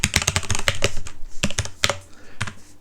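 Rapid clattering keystrokes on a computer keyboard while writing code in a text editor, close and clear, in uneven bursts with short pauses, no voices.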